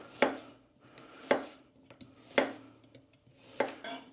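Carrots being chopped into chunky pieces with a knife on a board, four crisp, evenly spaced thunks about a second apart, close and clear in a quiet kitchen with no talking.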